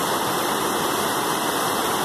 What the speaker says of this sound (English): mineral-rich water, all kinds of runoff coming off those glaciers up there